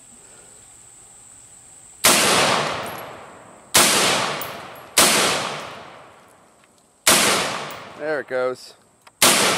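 Five sharp, loud M4 rifle shots ring out outdoors at a bone target, spaced irregularly with fading echoes after each, and a person speaks briefly between the last shots.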